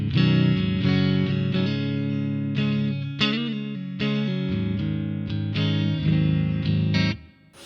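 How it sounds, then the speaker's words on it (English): Electric guitar played through a Two Notes Revolt analog amp pedal, with reverb added from a Line 6 M5, ringing sustained distorted chords that change every second or so, with a tail of reverb after each change. "As you can hear, there's a little bit of reverb."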